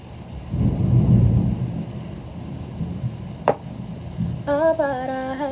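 Thunder rumbles low and heavy through a steady rainstorm in Jakarta, with one sharp crack midway before the rain continues, and a short synthetic chime tone near the end.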